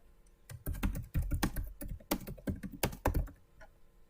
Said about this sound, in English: so just now type the names and replace those